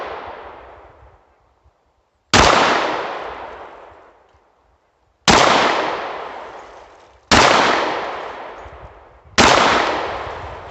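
American Tactical FXS-9 handgun fired outdoors, five loud, widely spaced gunshots, each a sharp blast with a long decaying echo, no voices.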